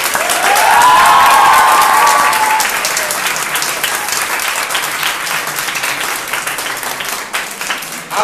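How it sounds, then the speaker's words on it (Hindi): A large audience at the Drona Ratna Sports Award 2022 ceremony bursts into loud, sustained applause for their coaches, dense clapping filling the hall for several seconds, with a brief high whistle-like tone near the start before the ovation settles slightly. "एक बार अपने गुरुओं के लिए जोरदार तालियां बजाएं"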